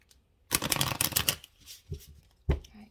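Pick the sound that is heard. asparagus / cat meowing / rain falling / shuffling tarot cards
shuffling tarot cards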